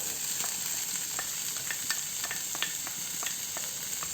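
Onion frying in a pan with ginger and garlic, a steady close sizzle and hiss with light, irregular stirring clicks and scrapes, no voices.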